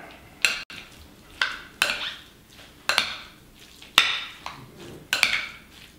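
Guacamole of onion, Roma tomato, cilantro and roasted serrano chilies is stirred in a bowl, giving six or so sharp utensil clinks and scrapes at a steady, unhurried pace, close and clear.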